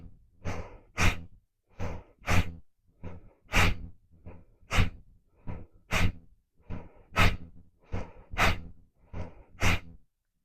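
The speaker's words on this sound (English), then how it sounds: "again, let your breath out." Forceful breathing out during yoga breathwork, a quick series of sharp, loud exhales repeated in a steady rhythm close to the microphone, with no speech.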